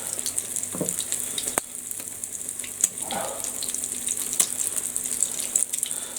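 A bagel half sizzles and fries in a hot pan with shimmering oil, a steady close crackle with a few soft knocks and scrapes over it.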